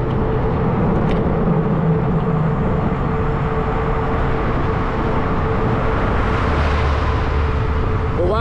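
Road traffic with cars rushing past close by, a continuous loud roar of engines and tyres that swells and fades as vehicles go by, with no one talking.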